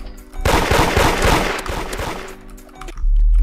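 Revolver shots ring out in the Roblox game Da Hood, a loud, dense cluster of cracking gunfire over a couple of seconds that ends in a heavy low thud.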